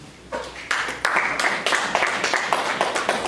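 Audience clapping in unison at a formal gathering, a steady rhythmic burst of applause that swells quickly and carries on loud and close for several seconds, with no talk over it.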